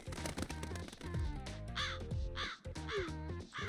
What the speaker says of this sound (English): Perhaps it was the crow.